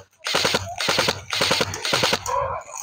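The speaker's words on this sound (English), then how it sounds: "That's the double barrel M4." A double-barrel M4 airsoft gun fires in four rapid full-auto bursts, close and loud, each burst a fast chatter of shots with brief gaps between them.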